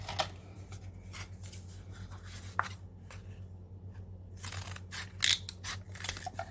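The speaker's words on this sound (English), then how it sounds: "Let's take scissors." Scissors snip through paper in a craft session, a series of quiet, crisp close cuts and rustles spread irregularly over a steady low hum, with no talking.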